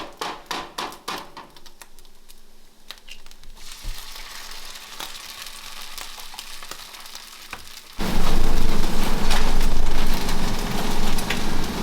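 Over-easy eggs frying on top of turkey bacon in a pan, a steady close crackling sizzle with a few sharp knocks at first, then a sudden, much louder and denser hiss partway through.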